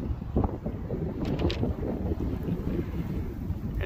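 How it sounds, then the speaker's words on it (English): Steady, loud wind buffeting the microphone in Newton, Iowa, a continuous low roar with gusty surges throughout. "It is very windy here in Newton today"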